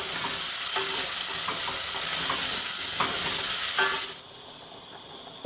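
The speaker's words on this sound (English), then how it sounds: "garlic, and celery. We'll saute these real quick." Garlic and celery sautéing in a pan, a steady loud sizzle with a few scrapes from stirring, then the frying noise drops away abruptly near the end.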